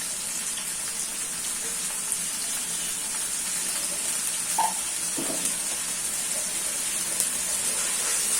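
Ginger paste, garlic paste, salt and spices sizzling and frying in oil for a tilapia fish curry, a steady close hiss with a few soft stirring scrapes and no talking.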